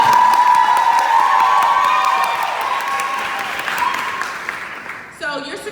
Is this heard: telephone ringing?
no